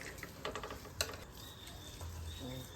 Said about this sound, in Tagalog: dito na lang ako nagluluto ng egg